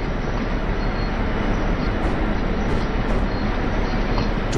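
DB G6 diesel shunting locomotive running in the Train Sim World 3 simulator on the Rhein-Ruhr Osten route, a steady dense engine and rolling rumble that holds level throughout without speech.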